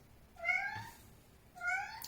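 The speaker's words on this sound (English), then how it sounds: "Chai agrees. That's my cat." A pet cat named Chai meows twice, clear and fairly close, with a short quiet pause between the two calls and no talking over them.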